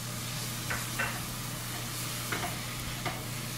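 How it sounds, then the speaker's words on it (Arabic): Crushed garlic and ginger sauté with softened onions in a pan for an Indian almond chicken dish, giving a soft, steady sizzle broken by a few quiet stirring scrapes. "بعد ما ذبل البصل راح أضيف زنجبيل والثوم، طبعا أنا دقيتهم مع بعض، وبحمس الحين مع البصل"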